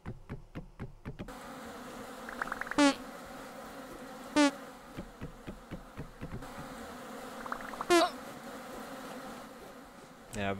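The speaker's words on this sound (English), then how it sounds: "I have a feeling there's gonna be lots of angry bees." Bees buzz steadily in the video game Vintage Story, a continuous close drone broken by a few louder, brief clicks and taps, with faint speech underneath.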